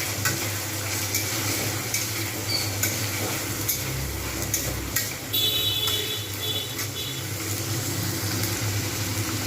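Chopped tomato goes into onions frying in a pan for a prawn malai curry, giving a continuous close sizzle broken by rhythmic spatula scrapes and light clinks against the metal.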